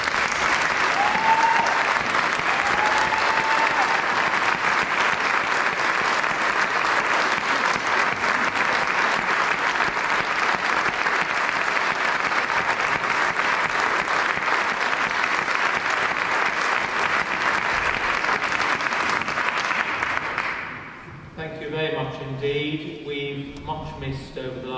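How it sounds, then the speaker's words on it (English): Sustained applause from a college choir concert audience fills the hall steadily for about twenty seconds, then fades as a voice begins speaking over the last moments. "take another round of applause"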